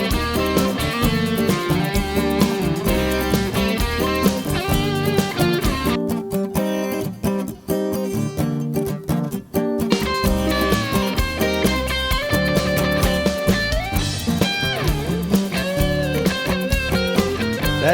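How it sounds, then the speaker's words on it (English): Dense, loud classic rock band mix with a strummed mono acoustic guitar track and driving drums, steady throughout with a short thinner break midway, no talking. "This is a guitar-oriented rock song with kind of a classic rock vibe."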